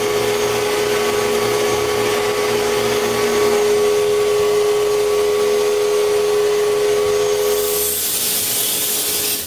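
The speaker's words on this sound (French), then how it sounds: "Il ne reste plus qu'à sabler toutes les surfaces avec un grain de 120." A power sander works over wood surfaces with 120-grit sandpaper, giving a loud steady whirring drone that cuts off near the end, with no talk.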